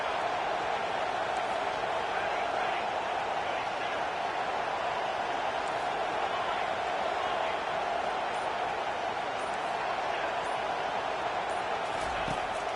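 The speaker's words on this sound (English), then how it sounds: "Decibels rising as the crowd gets behind this defense on 3rd down" Stadium crowd in the NCAA 25 college football video game during a 3rd-down defensive stand, a dense, steady roar of cheering that fills the whole stretch without letting up.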